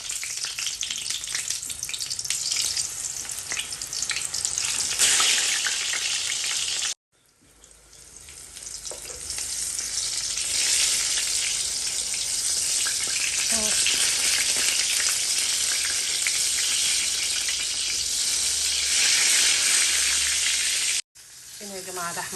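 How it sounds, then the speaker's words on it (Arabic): Salted eggplant slices fry in hot oil for a minced-meat maqluba, giving a steady, loud sizzle with crackling that runs throughout and breaks off in two brief silent gaps. "برش عليه ملح واسيبه شوية وبعدين ابدأ اقلي فيه."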